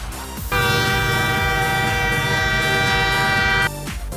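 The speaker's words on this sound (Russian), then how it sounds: "High speed train." A high-speed train sounds a sustained, loud horn chord for about three seconds, starting abruptly and cutting off cleanly, with a low rumble of rolling wheels underneath and no voices.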